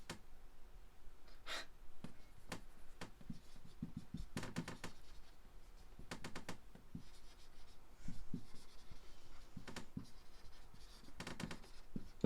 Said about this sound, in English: I need to write the word out